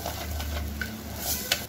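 Ground masala paste frying in a pan for soybean bhaji, a short close sizzle with soft stirring scrapes and a couple of small clicks.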